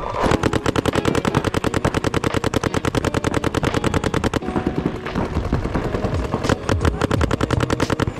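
Paintball markers firing in rapid, continuous volleys during a speedball game on an NXL Las Vegas layout, loud and close, with dense overlapping shots that barely pause for eight seconds.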